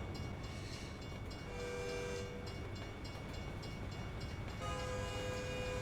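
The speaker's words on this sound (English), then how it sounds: "There it is. There's the choo-choo." Freight train with intermodal cars passing in the video game American Truck Simulator, a steady low rumble of rolling wagons with horn-like sustained tones coming in and out over continuous background noise.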